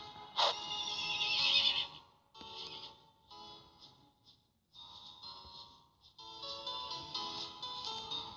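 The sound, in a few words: horse neighing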